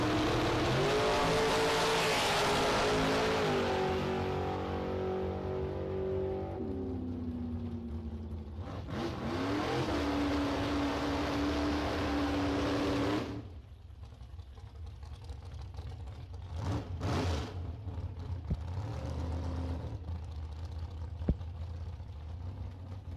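Drag race cars at a ghost race on a drag strip, a loud engine roar with rising revs that fades away as the cars run down the track, followed by quieter distant engine noise and hum.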